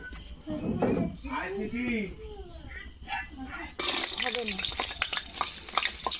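Onions browning in hot oil in a pan, a soft sizzle running under a voice for the first few seconds, then a sudden loud, steady crackling hiss with stirring scrapes that fills the rest of the clip.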